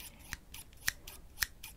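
Stationery scissors snip through bangs in close-up ASMR, several crisp metallic cuts at an uneven pace with soft sliding sounds between, no talking.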